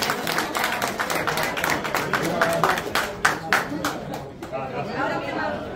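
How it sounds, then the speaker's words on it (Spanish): People at a CPA awards ceremony in the Pichón category clap in scattered bursts, with talk and chatter over the applause before it thins out. "Un aplauso."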